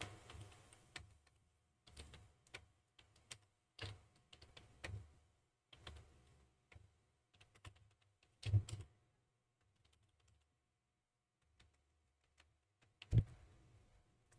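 Keys clatter on a computer keyboard while entering text into a Draw.io diagram template, arriving in short irregular bursts of close, quiet clicks separated by pauses, with two sharper key strikes near the end.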